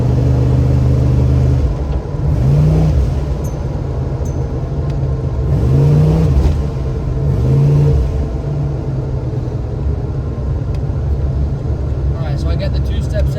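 Ford F-150 pickup on a test drive after a new 3800 rpm torque converter install, engine revving up in repeated surges under a steady road rumble, with a person talking over it.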